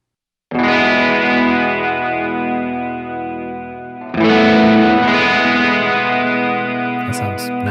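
Electric guitar played through a JHS pedal board on a worship rig with reverb engaged: two sustained strummed chords ring out with a lush, washy tail, the second chord louder, and a few light picked notes at the end.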